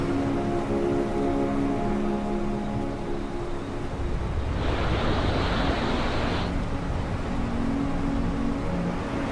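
Ocean waves surge and break on the black volcanic sand beach near a waterfall in Iceland, a steady loud roar with wind buffeting the microphone and a stronger wash in the middle.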